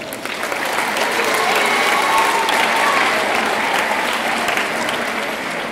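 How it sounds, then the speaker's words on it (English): Sustained applause from a middle school awards ceremony audience for a student, a dense, even roar of clapping that swells and holds for several seconds before easing slightly. "How about one more round of applause for Zach?"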